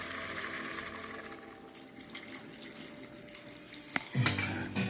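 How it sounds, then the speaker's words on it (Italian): Bean cooking water poured into a pot of pasta e fagioli with pumpkin, a steady liquid splash and trickle running throughout, with a brief clink near the end. "Poi aggiungo un po' di acqua di cottura."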